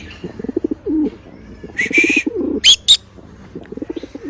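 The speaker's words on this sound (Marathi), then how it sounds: "नुसतं गुटरत असतंय" Pigeons coo in soft, repeated throaty bursts, with a few sharper high calls and brief wing flutters in between, fairly close.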